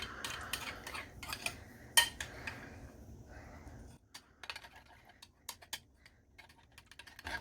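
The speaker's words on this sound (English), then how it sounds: "make sure to scrape the edges a bit" Utensil scraping around the edges of a mixing bowl while cooking, a series of light clinks and scrapes in irregular bursts, fairly quiet and close, thinning out toward the end.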